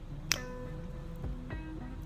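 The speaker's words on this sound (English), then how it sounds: "So I'm going to snap my fingers" A single crisp finger snap rings out near the start in a quiet indoor room, followed by faint soft knocks and a low hum.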